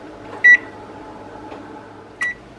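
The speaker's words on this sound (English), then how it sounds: "we set the oven to 350 degrees" A kitchen oven's control panel being set to 350 degrees gives two short, clear electronic beeps about two seconds apart over a faint background hum, with no voices.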